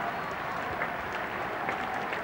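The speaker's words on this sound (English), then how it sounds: "And applause for the bowler, relief all round." Cricket crowd at Lord's applauding the bowler during a 1984 England versus Sri Lanka Test match, a dense, even wash of clapping from a large distant crowd lasting a couple of seconds.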